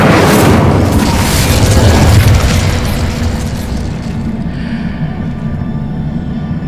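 A loud Incendio fire spell explodes in Hogwarts Legacy with a heavy, roaring boom that bursts at once and then slowly rumbles down over several seconds, with nothing else heard over it.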